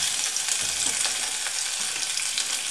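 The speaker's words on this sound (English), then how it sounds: "Once you can hear the sizzling, I would put it down to low heat." Onions sizzling in a frying pan, a close, bright, continuous sizzle with light crackle and faint low knocks, no voices over it.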